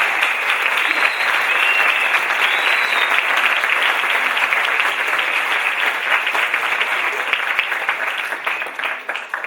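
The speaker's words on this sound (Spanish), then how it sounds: "Fort aplaudiment." Loud, sustained applause from a theatre audience at a school event in Torrent, before a talk on Luces de Bohemia. Dense clapping stays strong throughout and thins slightly in the final second.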